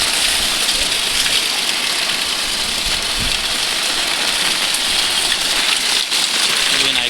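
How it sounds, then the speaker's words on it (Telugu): Heavy monsoon rain in Ramayampet, Medak district, pours down in a steady, dense roar that stays loud and unbroken throughout. "వర్షం వస్తుంది"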